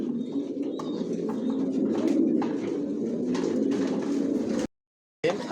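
Racing pigeons coo continuously in a loft, a dense, layered murmur of soft throaty calls with a few chirps, cutting to silence briefly near the end before resuming.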